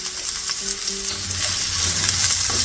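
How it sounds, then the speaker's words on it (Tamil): Onion, curry leaves, garlic and chili stir-frying in a pan with cumin, giving a loud, steady, close sizzle that grows slightly fuller as it goes, with no talking. "வெங்காயம், கருவேப்பிலை, உள்ளி, மிளகாய் எல்லாத்தையும் போட்டு நல்லா கிளறி விடணும்"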